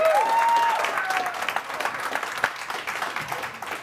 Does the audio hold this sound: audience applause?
yes